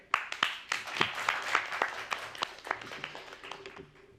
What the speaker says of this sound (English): Please join me for a big hand, a round of applause for all three distinguished discussion panelists today.